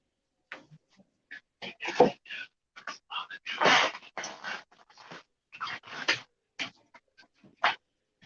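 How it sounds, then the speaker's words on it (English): Short, scattered barks and yelps from a neighbor's dogs in bursts, somewhat muffled and irregular, with quiet gaps between them. "my neighbor's dogs are going nuts"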